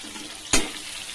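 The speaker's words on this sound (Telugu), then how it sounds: "ఇప్పుడు ఇవి ఫ్రై అవ్వాలి." Green chilies and curry leaves hit hot oil in a pan with a sudden loud crackling burst that settles into a low, steady sizzle.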